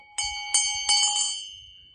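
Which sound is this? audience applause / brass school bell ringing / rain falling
brass school bell ringing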